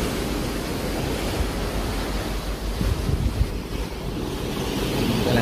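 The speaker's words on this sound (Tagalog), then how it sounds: "Talansik ng dagat." Sea waves splashing continuously with rushing surf and heavy wind buffeting the microphone, loud and close throughout.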